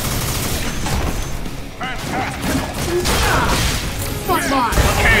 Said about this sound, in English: Proton cannon!